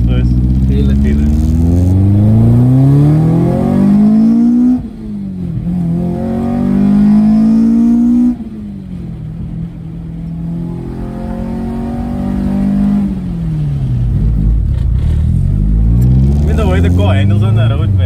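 A throttle-fed Honda B20B engine in a Stage 2 car revs and accelerates hard in repeated rising pulls that climb, drop at each shift and climb again, loud and close, with a voice faintly under it.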